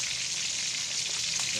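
Fish frying in hot oil, a continuous even sizzle with a faint crackle, fairly quiet and steady throughout.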